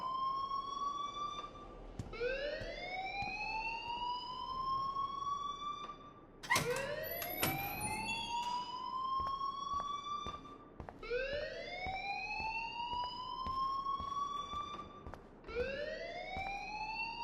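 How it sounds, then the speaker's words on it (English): A loud alarm in the video game Life Is Strange repeats as rising, siren-like wails, roughly every four seconds, with a brief clatter in the middle and no talking. "please turn off that alarm since that's your job"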